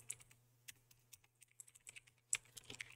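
Quick bursts of computer keyboard typing as a command is entered at a Windows command prompt, with uneven clicks and short pauses, close and fairly quiet over a faint steady hum.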